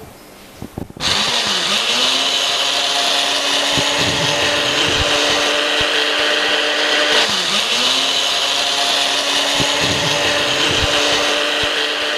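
A blender crushing crayfish sauce kicks on after a second of small knocks, then runs as a loud, steady, close motor whir and grinding roar to the end, with slight surges in pitch.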